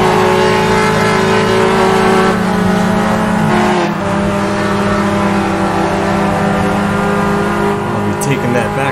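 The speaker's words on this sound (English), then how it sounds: "I can hear him right next to me." Race car engines roar loudly and steadily in the Automobilista 2 racing game at Cascavel Circuit, a rival car running alongside and passing with rising and falling engine pitch, plus a brief tire squeal.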